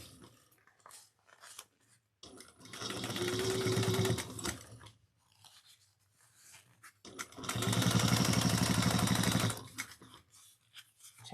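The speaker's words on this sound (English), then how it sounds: "we're going to stitch it down, that seam down towards the inside of the bag onto the lining piece" A sewing machine stitching a bag seam onto the lining with a 1/8 inch allowance: two bursts of rapid, steady stitching, each a couple of seconds long, separated by quiet handling sounds.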